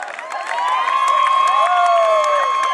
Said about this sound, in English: Big round of applause to all these runners